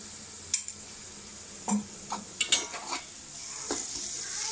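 Ginger garlic paste frying and being stirred in a pan: a steady sizzle runs throughout, broken by several sharp scrapes and clinks of a spoon against the metal at irregular intervals, close up with no talking.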